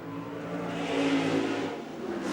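1979 Formula 5000 race cars at Adelaide roar in a continuous engine drone with a rising and falling pitch as they pass, heard from a distance amid broadcast ambience.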